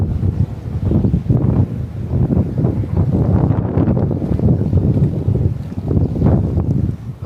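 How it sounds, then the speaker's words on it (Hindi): Strong outdoor wind roars steadily into the microphone, a loud low rumbling buffet with gusts rising and falling throughout and no voices. "हवा चल रही है।"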